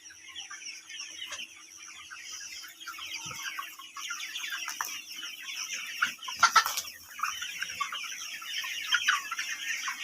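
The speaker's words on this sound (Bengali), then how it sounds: "অনেক মজা করে খাচ্ছে আর কি মুরগিগুলো।" Chickens on a farm cluck steadily while feeding on food cut up by hand, a busy flock chattering at moderate volume with occasional louder squawks, no talk over them.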